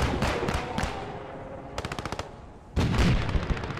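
Tank and machine-gun fire in the WWII game Post Scriptum, with loud close rapid bursts of automatic fire, a quick run of evenly spaced shots, and a heavier blast near the end.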